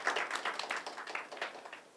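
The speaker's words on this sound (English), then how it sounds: "let's have a round of applause for the panelists over here" A conference audience gives a round of applause for a panel of three student panelists, a soft, fairly distant patter of many hands clapping steadily throughout.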